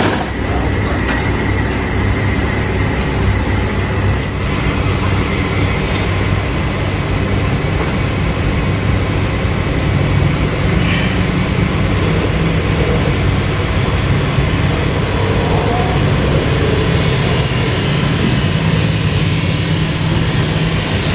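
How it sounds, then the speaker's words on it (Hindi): An old 35-horsepower tractor drives a rice threshing machine in a loud, unbroken mechanical drone that carries on steadily throughout, with no speech. "बिल्कुल भी पुराना ट्रैक्टर और आराम से चला रहा है जी इसको"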